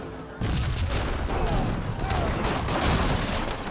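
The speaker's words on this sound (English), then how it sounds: "Heavy artillery does get a volley there." Heavy artillery volley and massed musket gunfire from an Age of Empires 3 battle, a loud dense barrage of booms and crackling shots that swells after a brief quieter opening and keeps rolling to the end.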